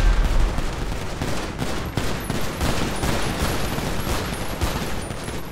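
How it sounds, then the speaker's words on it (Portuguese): Heavy gunfire in a GTA 5 roleplay police raid on a car chop shop: dense, continuous volleys of rapid shots crackle without pause, loud and close, with no talk over them. "Nossa, muito tiro, velho, muito tiro"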